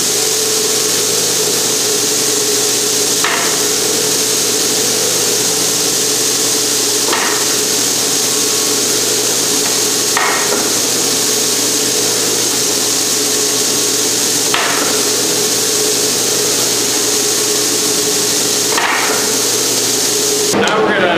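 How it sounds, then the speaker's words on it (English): Edge sander smoothing the edges of a wooden cutting board in a workshop, a loud steady grinding whine with periodic brief knocks as the board is pressed and repositioned. "go to the edge sander and sand the edges nice and smooth"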